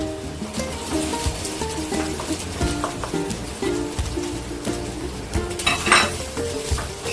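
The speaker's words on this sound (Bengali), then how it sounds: "আমি এবার এই গাজরগুলো কড়ার মধ্যে দিয়ে দেব" Grated carrots go into a hot kadai with ghee and are stirred for halwa. A spatula scrapes and clanks against the metal over a continuous sizzle, with close, irregular knocks and no talking.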